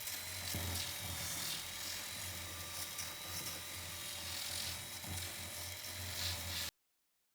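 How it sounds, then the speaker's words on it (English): A power sander grinds steadily against the fiberglass interior of a boat hull, a continuous high buzzing whine with a low hum beneath it that stops abruptly near the end. "So I have my sanding done"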